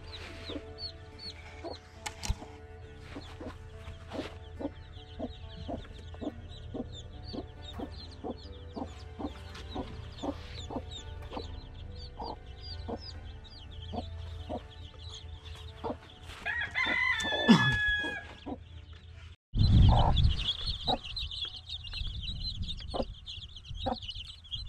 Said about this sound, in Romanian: Astea-s găinile de anul trecut.